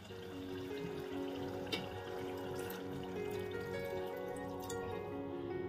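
Water being poured into a pan of chicken curry cooked with drumsticks (moringa pods), a steady liquid splash and trickle running close by for several seconds with a brief louder drip, no talking.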